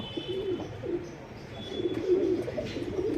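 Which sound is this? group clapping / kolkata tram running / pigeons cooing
pigeons cooing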